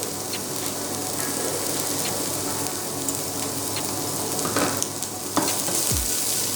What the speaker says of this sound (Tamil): அந்த இஞ்சி பூண்டோட பச்சை வாசனை போகிற வரைக்கும் கொஞ்சம் நல்லா வதக்குங்க